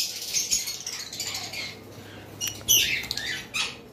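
Lutino red-eye lovebirds squawking and chirping in bursts, sharp high calls clustered near and moderately loud, with busier flurries toward the end and no speech.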